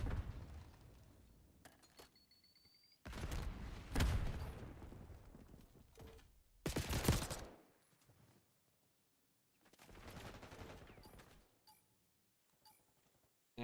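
Call of Duty gunfire rattles out in several separate bursts of rapid automatic shooting, loud and close, separated by quiet gaps with faint mechanical clicks, no talk.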